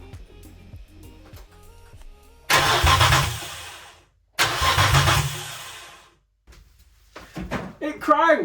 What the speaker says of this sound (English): I cannot begin to tell you how happy I am that this engine actually cranks on the key